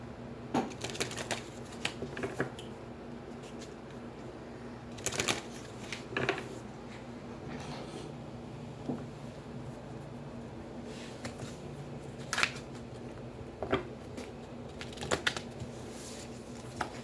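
Tarot cards shuffled in scattered bursts of soft riffling and slapping, close by and separated by quiet pauses, with no voices.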